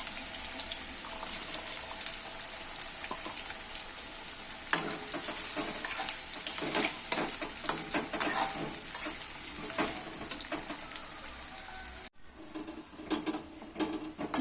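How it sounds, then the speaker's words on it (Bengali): Chopped onions sizzle steadily in hot refined white oil while being fried down to crisp browned onion for a cauliflower korma, a dense close crackle with occasional stirring clatter that dips briefly near the end. "এবার এর মধ্যে আমি পেঁয়াজ কুচিগুলো ছেড়ে দেবো। এগুলো আমরা বেরেস্তা করে নেব।"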